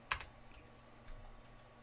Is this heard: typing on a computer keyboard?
yes